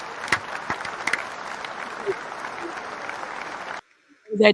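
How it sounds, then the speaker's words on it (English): An audience at a comedy show gives a round of applause, steady moderate clapping with a few sharper claps standing out, which cuts off abruptly before a brief voice follows. "Where's my round of applause?"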